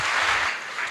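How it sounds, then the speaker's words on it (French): A congregation claps loudly during a church service, a dense burst of applause that fades slightly toward the end. "Applaudissons fort le Seigneur."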